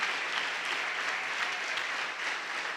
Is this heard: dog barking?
no